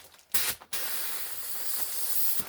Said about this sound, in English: Inflate the balloon.